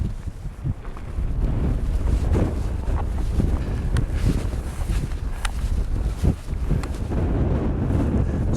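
Fresh wind buffets the microphone on an open fell, a steady loud rumbling roar with irregular gusts and thumps throughout, and no one talking.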